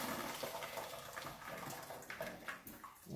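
Water from boiled potatoes is poured out of a pot into a kitchen sink, making a soft, continuous splashing gush for about three seconds at low volume.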